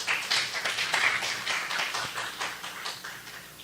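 A small audience claps for a professor at a round-table panel on science and technology funding, steady mid-level clapping throughout with no voices.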